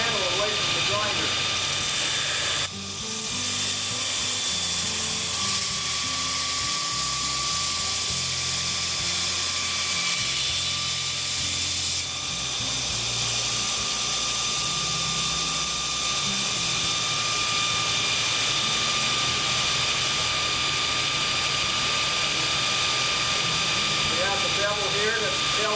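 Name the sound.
knife blade being ground on a grinder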